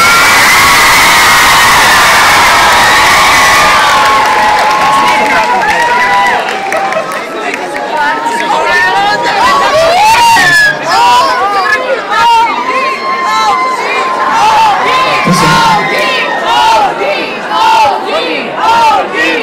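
A concert crowd bursts into loud, sustained applause and cheering for a performer. Dense clapping is layered with shouts and whoops, rising after a few seconds and staying close and full throughout.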